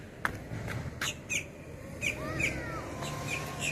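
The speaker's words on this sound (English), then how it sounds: "Birds are singing" Several birds chirp and call in short bursts over a steady outdoor background hum at Fort Myers Beach, fairly close and moderately loud.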